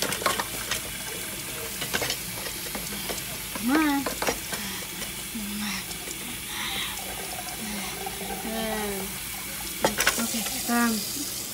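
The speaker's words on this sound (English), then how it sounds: "Cleaning dishes." Dishes being washed under running water, with clinks, splashes and a steady trickle, while a voice speaks briefly.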